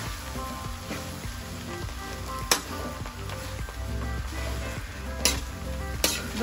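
Bopis, a Filipino dish with coconut milk, sizzles steadily in a pan while a spoon stirs it, with a few sharp clinks of the utensil against the metal standing out. There is no talking.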